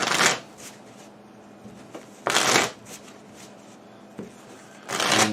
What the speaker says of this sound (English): So let's shuffle up.